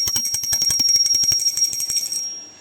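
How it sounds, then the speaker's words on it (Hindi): A brass puja hand bell rings rapidly and steadily for aarti, bright, close, fairly loud strikes in a quick even rhythm that fade out after a couple of seconds. "तो हम घंटी बजा लेंगे"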